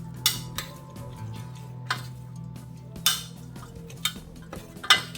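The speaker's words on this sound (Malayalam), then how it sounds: "അതിൻ്റെ മുകളിലേക്ക് 1 ടീസ്പൂൺ വെളിച്ചെണ്ണ കൂടി ചേർത്തിട്ട് നമുക്കിത് നന്നായിട്ടൊന്ന് മിക്സ് ചെയ്തെടുക്കാം" Mutton is mixed with salt, green chillies and coconut oil in a bowl, giving intermittent clinks and scrapes of a utensil against the dish over a low steady hum.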